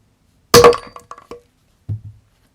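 A door hinge smacked to bend it, one loud sharp metallic hit followed by a few quick ringing rebounds, then a duller second knock after a short pause.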